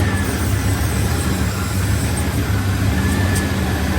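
A GMT400 OBS Chevrolet Silverado pickup engine idles steadily with a low, even rumble and a faint high whine, running smoothly with no voices.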